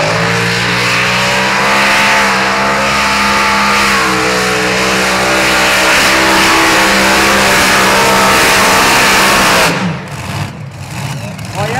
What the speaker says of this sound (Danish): Og ser hvad sådan Jacobsen kan præstere med traktoren Fenrir.